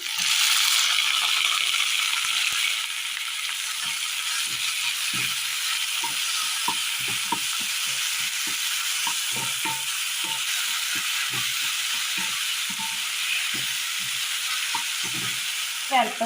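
Chopped tomato and onion sizzle steadily in a pan, with frequent clicks and scrapes from stirring throughout, close and moderately loud.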